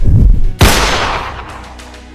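A single sharp pistol shot cracks loudly just after half a second, following rumbling scuffle noise, then rings out in a long decaying tail; a faint clack lands at the very end.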